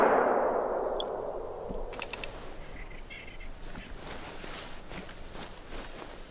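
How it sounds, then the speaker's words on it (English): A single loud shotgun shot at a rabbit in The Hunter: Call of the Wild rings out at the start and decays slowly into an outdoor soundscape of faint footsteps and light clinks. "Alright, I'm gonna shoot this rabbit."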